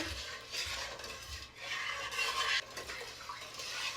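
Chicken pozole with chili sauce stirred in a pot on a turned-up stove, continuous soft scraping and sloshing over a low sizzle, alone and close.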